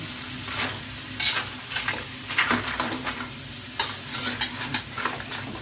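Crab stir-fried with curry powder in a wok, close sizzling under repeated scraping and tossing strokes in an uneven rhythm.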